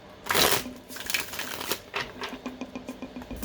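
A deck of tarot cards riffles in one loud burst at the start, then softer quick flicks and slides of the cards continue near the listener.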